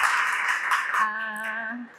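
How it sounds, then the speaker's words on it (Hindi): Applause from a poetry open mic audience in Ahmedabad, a steady patter of clapping that runs for about two seconds and thins toward the end, with a faint sustained tone rising beneath it partway through. "आर्मी मैन्स गर्ल, तालियां"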